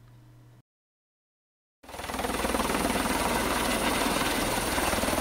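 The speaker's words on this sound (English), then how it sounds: "Toyota chartered a helicopter to fly us out to our testing grounds" A chartered helicopter flying over Hawaii, a steady rotor thrum with a whining engine tone that cuts in after a brief silence and holds loud and continuous.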